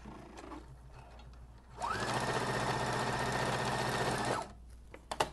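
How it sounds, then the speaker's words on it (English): A sewing machine runs a long line of gathering stitches at a steady, fast, close hum for about two and a half seconds, with light handling clicks before and after. "Just going to sew a simple stitch, do not back stitch."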